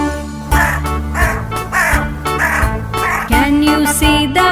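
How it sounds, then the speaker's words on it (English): A black crow perched in a tree gives a run of loud, close caws, about six harsh calls in steady succession with short gaps between them. "Can you hear the black crow sitting on the tree?"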